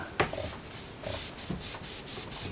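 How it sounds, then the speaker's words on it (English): A magic eraser scrubs marks off the surface of an old Ikea coffee table, several quick back-and-forth rubbing strokes up close, with a sharp knock at the start and no talking. "Got my magic eraser, slightly used, but hopefully it still works."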